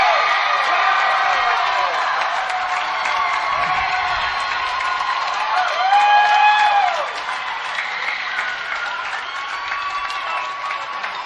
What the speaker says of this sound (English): We hand it over to the crowd for a minute. How about the excitement?